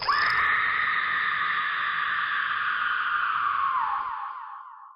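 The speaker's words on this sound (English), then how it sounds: "There was a loud screeching noise that only lasted 5 seconds." A loud, sustained high-pitched screech holds steady for about four seconds, then wavers and fades away.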